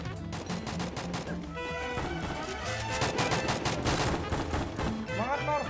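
Gunfire in a mobile shooter game, with rapid bursts and shots crackling continuously over music and effects, loud and dense throughout, while a voice talks intermittently.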